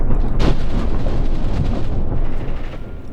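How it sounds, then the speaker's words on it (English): Light field howitzer shells landing during a battle in the video game Graviteam Tactics Mius, a loud, continuous rumbling barrage of blasts and thunder-like booms close by, with no talk. "These light field howitzer shells that are landing there."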